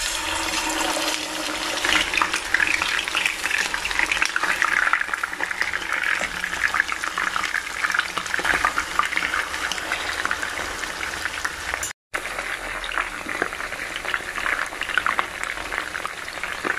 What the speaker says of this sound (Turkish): kızmış olduğum yağıma etlerimi bir güzel koyup kızartmaya